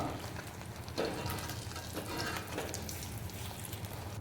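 Evening snacks deep frying in hot oil in a deep pan, a soft, continuous bubbling sizzle with faint crackles, steady and fairly quiet throughout.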